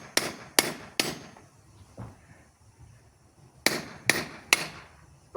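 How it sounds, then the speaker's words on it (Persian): Hammer blows on a seized, rusted wheelchair steering part, struck in two bursts of three sharp metallic hits with one lighter tap between, loud and close with quiet gaps. "ما متوسل بشیم به چکش. اما چکش میزنیم این در میاد یا نه؟"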